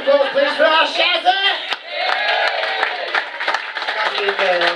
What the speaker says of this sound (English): Big round of applause, please, for our Shazza!